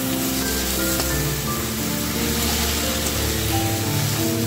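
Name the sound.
boiled susni greens frying with onion and garlic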